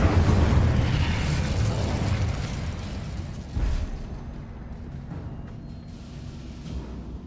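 Incendio fire spell in Hogwarts Legacy: a whooshing fiery blast with a thump at about three and a half seconds over a dense, fading rumble.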